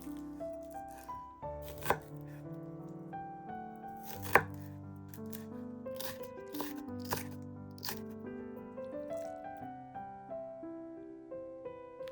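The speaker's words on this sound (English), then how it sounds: "I slice some of my favorite soba toppings, shiso, green onions, and myoga ginger." A knife slicing shiso leaves, green onions and myoga ginger on a cutting board, a quiet run of quick, crisp chopping taps in an uneven rhythm, close up, with a few sharper knocks.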